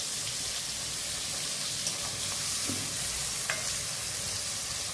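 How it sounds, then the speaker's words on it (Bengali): A medium-sized onion fries in a pan with a steady, dense sizzle and occasional stirring scrapes. The hiss holds fairly loud and constant throughout, with no voices. "পেঁয়াজটাকে আমি একটু ভালো করে ভেজে নেব"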